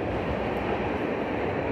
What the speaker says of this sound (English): I apologize for the train in the background.